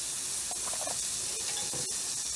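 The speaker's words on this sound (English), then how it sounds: "it will sizzle when you put the butter in" Steady, bright sizzling of butter on a hot griddle for cornmeal johnnycakes, a constant crackling hiss with small pops, heard close with no talking.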